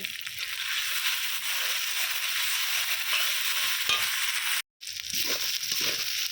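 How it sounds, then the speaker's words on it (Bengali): Garlic and ginger paste with spices frying in a pan, a steady bright sizzle with stirring and scraping throughout, briefly cut to silence near the end before resuming. "এর মধ্যে দিয়ে দিচ্ছি রসুন বাটা আদা বাটা মশলাটা খুব ভালো করে কষিয়ে নেব"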